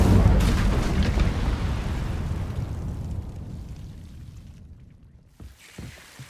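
An Incendio fire spell in a video game bursts with a loud, explosive whoosh and then trails off in a slowly fading roar, followed by a few small soft thumps near the end.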